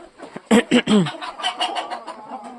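Several roosters and hens in a snowy farmyard cluck loudly at close range, a burst of sharp clucks followed by a string of softer, fading chatter.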